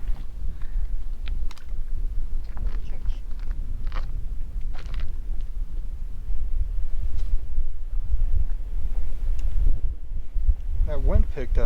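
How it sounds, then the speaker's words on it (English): Steady wind rumbles across a microphone at a mountain lake in the Ruby Mountains Wilderness of Nevada, a constant low roar throughout, with a person speaking over it and a few faint rustles and clicks. "That wind picked up"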